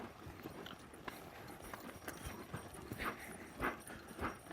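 A ridden horse loping in an arena as the rider asks for a flying lead change, its hoofbeats coming as soft, rhythmic thuds at a moderate distance with no talking over them.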